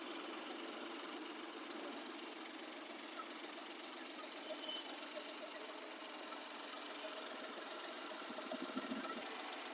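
A 2010 Maruti Alto's engine idles steadily, a close, even mechanical hum with a light rhythmic ticking that holds without a break.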